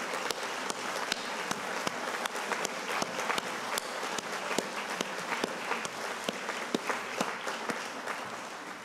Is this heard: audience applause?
yes